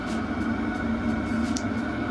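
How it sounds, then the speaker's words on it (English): A diesel heater runs steadily in a workshop where fibreglass work on boat stringers is under way, giving a constant droning hum with a low rumble and a faint hiss, unbroken from start to finish. "You have to excuse the noise, diesel heater's going"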